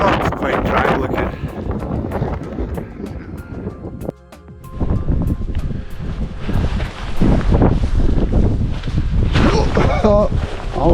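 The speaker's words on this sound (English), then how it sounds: "It's a bit windy" Gusty wind sweeps across the rocky summit scramble of Ben Avon in the Cairngorms, roaring and buffeting close against the microphone, with a voice talking beneath it.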